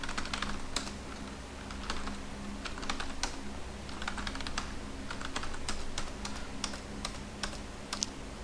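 Steady typing on a computer keyboard while entering customer details into pharmacy accounting software, with rapid irregular clicks that run continuously and close-up, and no voice over them.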